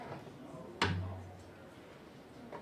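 A gourd instrument used for Obatala songs gives one sharp, hollow strike with a low resonant ring, followed by a faint second tap in an otherwise quiet room.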